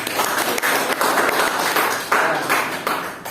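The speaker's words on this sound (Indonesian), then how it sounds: "Beri tepuk tangan untuk Naulfa." A small classroom of students claps for a classmate during a seventh-grade maths lesson, a brief, close burst of uneven clapping in loose waves.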